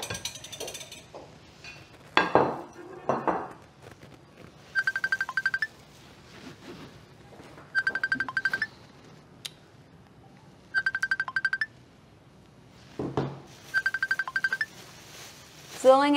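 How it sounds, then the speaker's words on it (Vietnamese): A phone ringtone chirps in repeated short bursts about every three seconds in a Vietnamese TV drama scene, clear and fairly close, while people talk in between and other household clatter is heard. "nghe điện thoại đi con."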